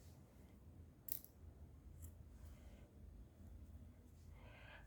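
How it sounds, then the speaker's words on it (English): Scissors snip through yarn while crocheting a vest. One quick, faint cut stands out in a quiet room, followed by light handling noises. "I'm just going to cut off my yarn"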